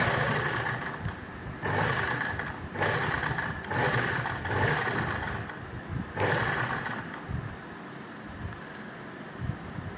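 A sewing machine stitches lace onto fabric in several bursts of rapid whirring and needle clatter, each lasting a second or more, separated by short pauses, close up.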